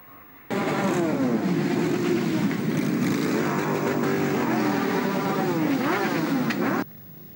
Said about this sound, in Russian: сотни байкеров на чоперах, спортивных мотоциклах и на скутерах отправились в круиз по городским улицам